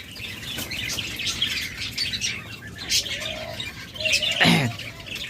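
Cage birds including cockatiels, lovebirds and budgerigars chirp and squawk in a busy, overlapping chorus, with scattered wing flaps and one louder squawk near the end.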